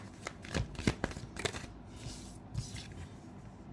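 Tarot cards being shuffled in quick bursts of riffling and flicking, several sharp papery snaps close up over a quiet background, with no talking.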